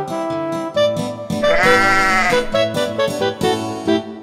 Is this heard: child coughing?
no